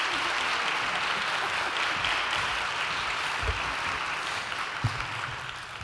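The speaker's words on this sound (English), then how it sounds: "Please join me in a virtual and in-person applause to welcome Spelman College President Dr. Helene Gayle and Dr. Ruth Simmons." Audience applause welcoming Spelman College President Dr. Helene Gayle and Dr. Ruth Simmons at a conversation event, steady, moderately distant clapping from a crowd that holds at an even level throughout.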